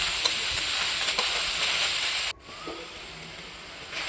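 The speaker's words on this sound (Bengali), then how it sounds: "এরপর সেদ্ধ করে রাখা থোড়গুলো দিয়ে ভালো করে মিশিয়ে নেব" Boiled banana stem being mixed with fried peanuts in a hot pan, a steady sizzling hiss with scraping stirs that drops suddenly quieter partway through.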